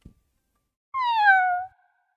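A cat in the game Path to Nowhere gives a single clear, drawn-out meow at a door, close and alone after a faint tap, with silence around it.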